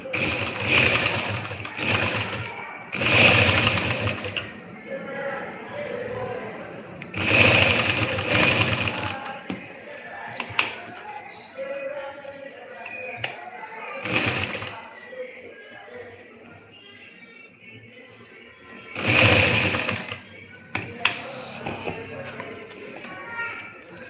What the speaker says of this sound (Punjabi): ਇੱਕ ਵਾਰ ਤੁਹਾਨੂੰ ਸਿਲਾਈ ਲਗਾ ਕੇ ਦਿਖਾਉਣੇ ਆ ਕਿ ਆਪਾਂ ਇਦਾਂ ਦੇ ਹਨਾ ਸੂਟਾਂ ਦੇ ਉੱਪਰ ਕਿਵੇਂ ਆਸਾਨ ਤਰੀਕੇ ਲਗਾ ਸਕਦੇ ਹਾਂ ਗਲੇ